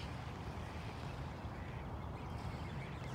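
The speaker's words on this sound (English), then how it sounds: "So much ducks." Many ducks quacking together in a dense, continuous chorus, faint and distant, with no one speaking.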